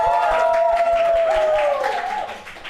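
Studio audience clapping for the game master at a live Indonesian cooking-show event, a dense patter of claps under loud music with a held melodic tone, steady then fading toward the end.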